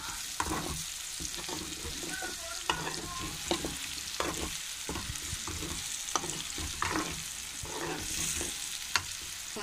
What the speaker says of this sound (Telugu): గుడ్లు విడిపోకోకుండా ఎక్కువ విడిపోకుండా వేయించుకోండి.